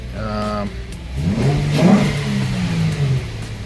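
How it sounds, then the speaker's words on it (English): A 2005 Infiniti G35 engine revs up and settles back, loud and close, with the pitch rising and falling across a few seconds. "the car sounds really good"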